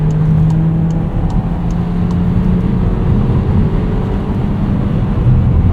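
A 2025 Volkswagen Taos engine pulls hard while merging onto a highway in winter, a loud, steady low drone with road rumble heard from inside the cabin.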